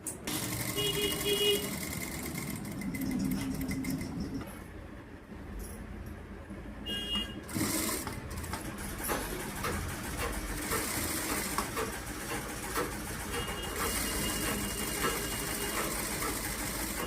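A sewing machine stitches the edge of a baby girl's bunny cap with a steady mechanical whirring and rattle, pausing briefly midway before running on.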